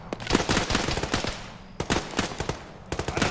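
Rapid automatic gunfire in a military video game, dense bursts of close, loud shots in three quick volleys with short pauses between them.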